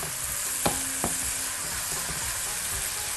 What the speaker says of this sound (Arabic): نبتدي نشوحها شويه مكان تحمير الفراخ